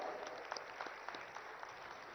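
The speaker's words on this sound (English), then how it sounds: "let us welcome him with a huge round of applause" Faint, distant audience applause at the BioAsia inauguration in Hyderabad welcoming Chief Minister Revanth Reddy, a thin continuous patter of hand claps heard through a muffled, band-limited sound system.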